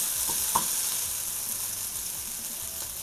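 Capsicum fries in a pan with a steady, close sizzle, punctuated by a couple of brief clinks or stirring taps early on.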